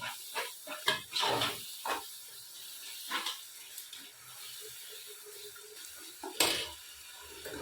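Green chillies for chicken biryani being stirred in a pan, with scattered scraping and clattering strokes and soft sizzling between them, one louder scrape near the end, fairly quiet overall.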